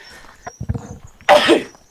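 A single loud, close sneeze bursts out after a few soft sounds and breaths, sharp and brief, ending in a quick fading exhale.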